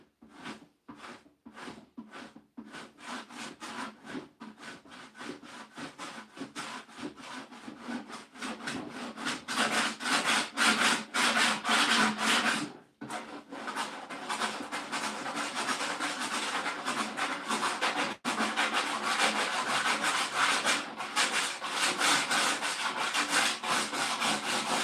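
Hand sanding on the wooden armrest of a vintage chair: repeated scratchy rubbing strokes, sparse at first then dense and continuous, close and fairly loud, with a brief pause midway.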